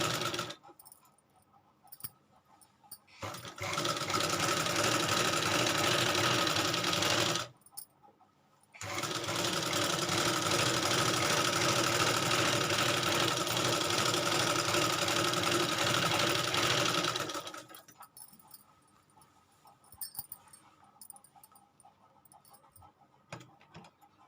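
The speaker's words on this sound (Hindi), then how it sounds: "अब इसके बिल्कुल किनारे किनारे पे सिलाई लगाएंगे" A sewing machine runs fine, short stitches right along the edge of a salwar, in two sustained bursts with a brief pause between, then stops to quiet handling noises.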